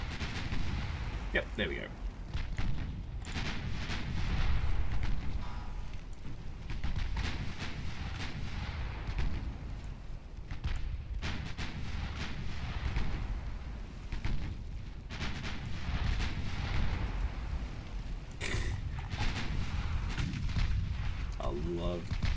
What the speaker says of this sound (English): I love just bullying ships with 2-inch guns.